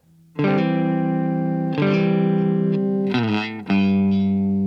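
Distorted electric guitar plays a few sustained notes of a lick, then slides downward and settles on a final held root note, loud and close with no voices.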